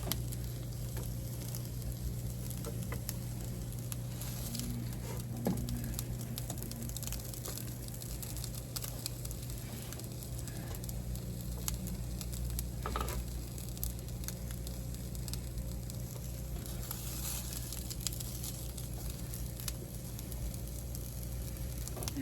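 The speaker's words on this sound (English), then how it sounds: "Now we're going to start by adding our ground turkey and mushrooms" Ground turkey and mushrooms sizzle steadily in a pan, a continuous bright frying hiss that holds evenly throughout with occasional faint stirring scrapes and no talk.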